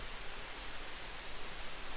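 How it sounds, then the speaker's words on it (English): Hickory Nut Falls at Chimney Rock, North Carolina, pours down as a steady, faint, distant hiss of falling water, heard alone without talk. "There's that waterfall coming down."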